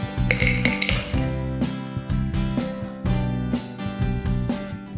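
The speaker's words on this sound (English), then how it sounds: "Now take a mixing glass and start pouring all the ingredients. Add 8 to 10 ice cubes." Ice cubes clatter into a mixing glass for a whiskey and honey hangover drink, a rapid string of loud, close clinks and knocks that repeat in uneven bursts, with no voices.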